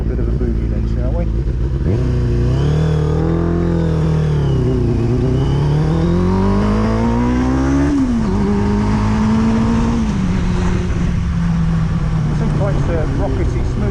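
A Kawasaki ZX6-R motorcycle engine revs hard while riding, its pitch climbing, dipping and climbing again through gear changes, loud and close over steady wind rush.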